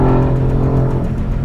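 Mercedes AMG GT engine held at a loud, steady high-rev roar on a race track, a close, continuous drone with no pause.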